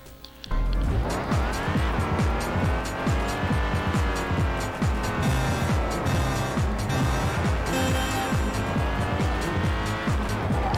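Jaguar XKR racing in the Dreamcast game Vanishing Point, a loud continuous engine whine rising and falling through gear changes, with tire squeal mixed in.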